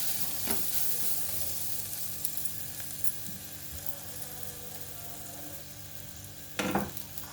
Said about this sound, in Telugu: దానిలోనే 1 స్పూన్ అల్లం వెల్లుల్లిపాయ పేస్ట్ వేస్తున్నాను.